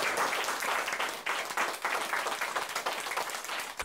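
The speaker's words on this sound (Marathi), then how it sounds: "तर एकदा जोरदार टाळ्या श्रीराम सरांसाठी" A hall audience applauds loudly for Shriram sir at a felicitation gathering, dense sustained clapping with slight swells and dips, continuing without pause and no speech over it.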